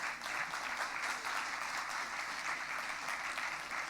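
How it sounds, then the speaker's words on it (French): Sustained audience applause at an evening cycling event in Montreuil, a dense wash of clapping from a crowd holding steady and fairly loud throughout. "je vous prie de les accueillir avec vos applaudissements"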